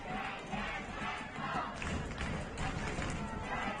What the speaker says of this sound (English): A lot of energy from this home crowd as always